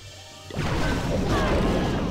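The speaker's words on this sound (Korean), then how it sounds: "지금 폭탄 타워까지 터지기 때문에 지금 폭탄이 3개가 터지는 건데" Bombs going off in Clash of Clans, a sudden loud crashing blast after a short quiet lead-in, then a thick sustained rumble of layered explosion noise and debris until the end.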